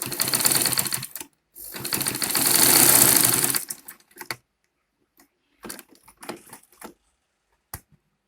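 A sewing machine stitching a face cap runs in a fast, steady rattling burst, pauses, then runs again with a rising whir before stopping, followed by scattered clicks and handling of the fabric.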